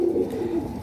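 A red-tailed female pigeon coos in a low, rolling call, close and steady for under a second with no other sounds.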